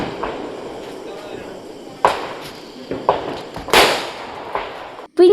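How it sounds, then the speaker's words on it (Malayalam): Palm-leaf firecrackers burst for the Vishu festival, several sharp cracks spaced out over a few seconds against quiet outdoor background, with a louder close pop at the end. "ആദ്യം തന്നെ ഓലപ്പടക്കത്തിൽ തുടങ്ങിയിട്ടുണ്ട്."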